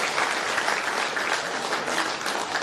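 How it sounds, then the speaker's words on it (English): Steady clapping fills the room as a business audience at a hotel event gives itself a round of applause, a brief, even burst with no talking. "So give ourselves a round of applause."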